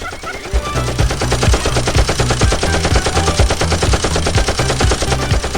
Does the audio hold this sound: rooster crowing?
no